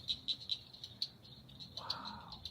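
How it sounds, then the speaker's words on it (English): Several frogs call along a flooded nature-preserve trail among cypress and sawgrass, giving faint, rapid, repeated high chirps and rattles over a quiet outdoor background. "if you can hear all the frogs communicating here"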